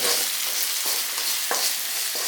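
Puffed rice and salt stirred in hot oil, giving a steady close frying hiss with repeated scraping strokes of the spoon against the pan, no voices.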